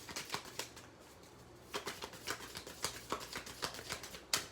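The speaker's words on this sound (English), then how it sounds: "So I'm going to just shuffle these because I didn't pick up all of the deck" A deck of tarot cards is shuffled by hand, a quiet, close run of rapid papery flicks and soft slaps in an uneven rhythm.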